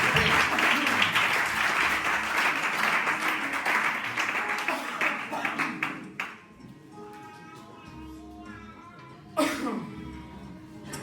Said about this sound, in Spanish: Pues dale un fuerte aplauso al Señor y mi hermano Moisés con nosotros.